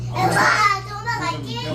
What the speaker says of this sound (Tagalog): Tingnan nyo pag dito sa bukid yung mga bata, ang kanilang nilalaro.